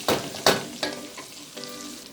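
Bacon with garlic and tomatoes sits in a pan over a low flame, giving a soft sizzle broken by a few sharp stirring scrapes and clinks, no talking.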